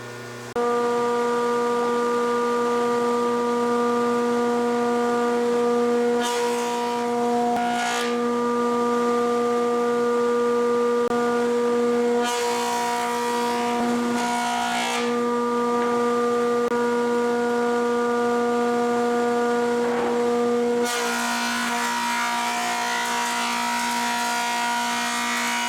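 A Yates American B244 planer feeds a big wide board, its motor holding a steady tonal whine while bursts of rough cutting noise rise and fall as the board passes through, loud and close with no talk.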